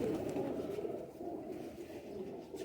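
Nayab Sialkoti breed pigeons coo steadily and softly in a continuous low murmur, several birds overlapping with no pause throughout.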